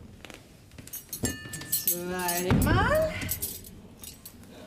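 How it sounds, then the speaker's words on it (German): Plates, then cutlery, set down on a table during a Bavarian folk theatre stage scene, giving scattered clinks and chinks while someone speaks over them. "So, erst die Teller, dann kommt das Besteck."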